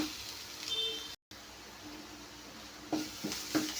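A chili and masala mixture frying in a pan on a carrot and egg fry, a soft steady sizzle at low volume with a brief stir and clink near the end.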